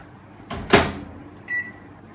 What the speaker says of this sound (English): Put the cooker inside the microwave oven